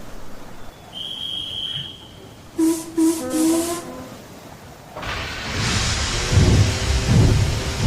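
Light rain and thunder: after a few brief tonal sounds, a broad rumbling roll of thunder builds and swells loudly over steady rain noise, with no voices.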